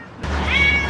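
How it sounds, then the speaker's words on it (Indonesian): A cat meowing close by, one drawn-out, rising and then steady meow on a street while travelling, with no talking over it. "Aku jumpa kucing. Kucing comel lah."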